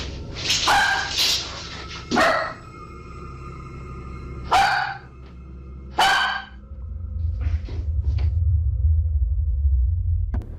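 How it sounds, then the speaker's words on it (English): A dog barks several times in separated, loud bursts, caught by a home security camera indoors, with a low rumbling background between barks and no speech. "the dog began barking"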